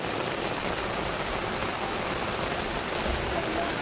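Steady rain falls during an outdoor puja for the Gundicha rite, a dense, even hiss of water on surfaces that holds constant throughout with no voices.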